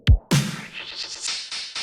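A kick and snare give way to a hi-hat processed with a Shaper Box drive sweep preset, its distorted hiss swelling and pulsing in a sweeping rhythm.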